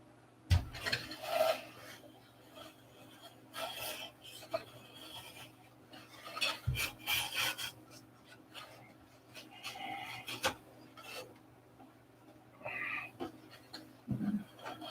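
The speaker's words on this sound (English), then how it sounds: "I'll sand it in from there. Ain't nothing little sandpaper can't take care of." Sandpaper worked by hand over a molded wooden aircraft part in a hangar, soft scratchy rasping strokes repeating in irregular bursts, close and quiet, with a faint steady hum underneath.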